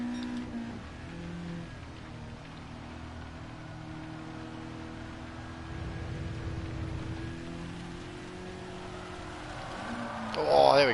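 Rain in the racing video game Gran Turismo 7, a steady hiss of rainfall over a continuous car engine drone that holds through the whole stretch and swells slightly near the end.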